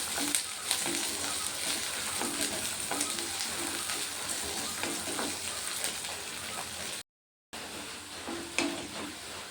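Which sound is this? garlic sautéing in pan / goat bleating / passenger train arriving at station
garlic sautéing in pan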